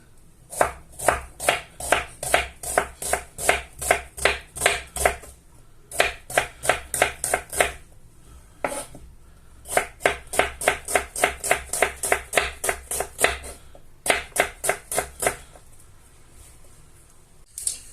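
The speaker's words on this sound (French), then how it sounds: "nos oignons sont épluchés et maintenant on va les ciseler" A knife finely chops peeled onions on a board in quick, regular bursts of crisp taps, with a few short pauses between runs, close and clear and no talking.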